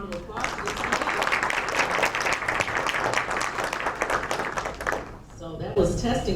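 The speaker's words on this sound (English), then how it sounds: "let's give a big round of applause for this man" A middle school audience at a student speaking event gives a sustained burst of dense, lively clapping for about five seconds, then it fades and a voice begins speaking.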